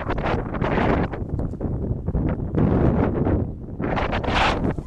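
Strong, gusty wind ahead of an approaching rainstorm in Languedoc buffets the microphone in heavy, rumbling bursts that rise and fall without a break.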